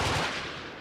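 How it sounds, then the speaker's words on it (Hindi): Non-stop gunfire from Indian Army soldiers in a jungle, a dense rolling burst of shots heard loud and continuous, with no voices. "सिर्फ गोलियां चल रही हैं यहां पर नॉन स्टॉप"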